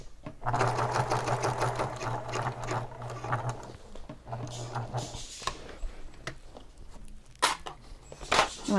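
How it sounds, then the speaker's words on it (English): A domestic sewing machine stitches through thick handbag layers with lengthened stitches, a steady close whirring hum that runs in bursts, pausing briefly before restarting, with some handling clatter toward the end. "I also lengthened my stitches for this part because this is a lot of thickness to go through."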